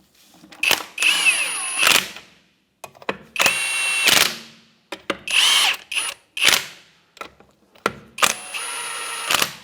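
A power tool with a 21mm socket snugs the rear wheel lug nuts on a 2011-2016 Hyundai Elantra, firing in five or six loud, close whirring bursts separated by short pauses and clicks.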